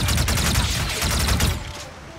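Rapid automatic gunfire in the video game Call of Duty: Infinite Warfare, a loud, dense rattle of shots for about a second and a half before it cuts off into quieter ambience.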